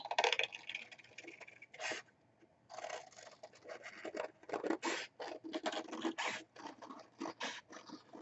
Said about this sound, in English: Cutting it out with just scissors.